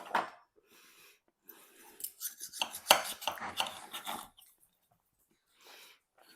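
Cutlery scrapes and taps against a plate while slicing into a smoked medium-rare steak, a few close clinks and scratches in short bursts separated by quiet gaps.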